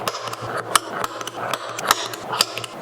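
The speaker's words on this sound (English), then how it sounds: "I'm going to use this spring-loaded awl to go ahead and punch center for each one of these." A spring-loaded awl punches center marks into wood in a series of sharp mechanical snaps and clicks, repeating at irregular intervals, close up, with quiet scraping between them.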